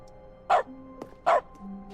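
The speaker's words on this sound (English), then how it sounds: "I can bark now, as foxes were intended to" Two short, loud dog barks from dog mode in the video game The Stanley Parable, spaced evenly about three-quarters of a second apart over a quiet game background.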